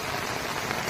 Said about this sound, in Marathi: आणि पाऊस बघा किती आहे.